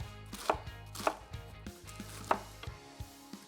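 A knife chops lettuce crosswise into bite-sized pieces on a board for a strawberry poppyseed salad, giving a series of crisp, quiet, unevenly spaced cuts with nobody speaking.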